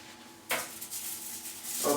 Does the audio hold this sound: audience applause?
no